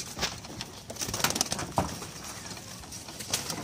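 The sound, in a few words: pigeons cooing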